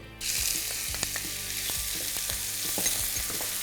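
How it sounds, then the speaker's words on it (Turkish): Chopped onions sizzle steadily in a hot, oiled pan, a continuous crackling hiss with occasional scrapes and clinks of stirring, close up and without talk. "Ve kavurmaya devam ediyorum bu şekilde."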